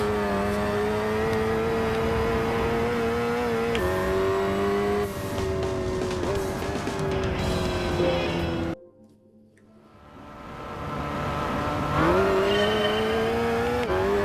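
Race car engine in Gran Turismo 5 revving steadily at high pitch, rising and falling through shifts, with a brief near-silent gap midway before the engine note climbs back, with no talking.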